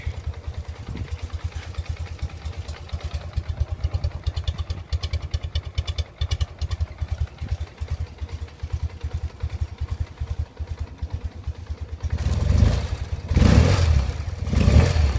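A 1977 BMW R100S motorcycle engine runs with a steady, loud idle throb that persists throughout, then is revved in several strong bursts near the end.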